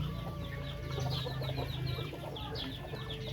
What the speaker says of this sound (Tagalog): Ayun, tulad nun, yung rooster.